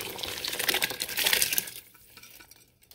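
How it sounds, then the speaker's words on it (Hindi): Soaked basmati rice pours into a pot of boiling water for black chickpea pulao, a brief splashing, rattling rush that dies away after about two seconds, leaving only faint simmering. "अब हम इसके अंदर डाल देते हैं अपने बासमती राइस जो कि मैंने"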